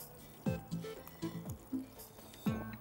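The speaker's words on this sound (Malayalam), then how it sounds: "ഇനി ഇത് ഇതിനകത്തോട്ട് ഞാൻ ഒഴിക്കുക" Thick ground paste for butter chicken is poured into a pan in a home kitchen, giving soft, quiet gloopy plops and drips in a few irregular bursts.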